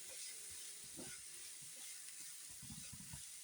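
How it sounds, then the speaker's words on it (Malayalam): Onion, ginger, green chili and curry leaves sautéing in hot oil, giving a soft, steady sizzle broken by the scrape and clatter of a stirring spoon, faint and close with no talking. "സവാള, ഇഞ്ചി, പച്ചമുളക്, കറിവേപ്പില ഇതൊന്ന് വഴറ്റിയെടുക്കാം."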